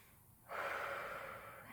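A single deep inhale drawn in during a yoga class for hips and hamstrings, a close, airy breath rising from near silence and held steady.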